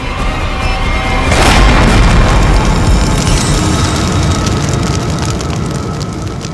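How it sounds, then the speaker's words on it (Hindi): A bomb blast in a Hindi TV crime drama, a loud booming explosion that surges early and then rumbles on as a dense, steady roar through the rest of the clip, with no voices over it. "डायनामाइट बम से अलग करेंगे तो बम फट जाएगा।"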